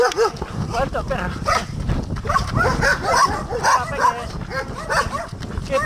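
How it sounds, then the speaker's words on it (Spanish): A dog barks and yips repeatedly in short bursts on a roadside route during a trail run, close and fairly loud, with someone talking over it. "Perro. ¿Cuánto perro?"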